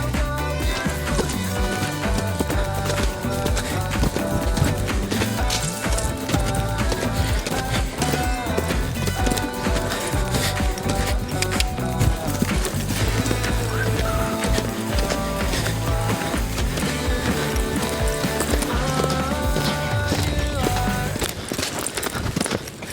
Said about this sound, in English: she's such a little cross-country horse